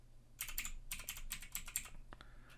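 Quiet bursts of computer keyboard typing as a Windows command is entered, quick clustered keystrokes with short pauses and a final key press near the end.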